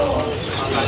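Caged songbirds, including adult male kacer, at a kiosk in the Pramuka bird market, with continuous chirping and cooing across the whole moment amid a busy, fairly loud market background.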